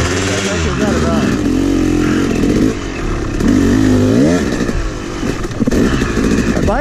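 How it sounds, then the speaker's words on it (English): A Yamaha YZ250 dirt bike engine runs loud and close on a trail near a thorn bush, its pitch swooping up and down with repeated revving, with a voice briefly heard over it. "My bike is stalling a lot."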